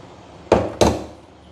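Two sharp, loud knocks about a third of a second apart as a wet espresso puck is banged out of a portafilter, each with a short ringing decay.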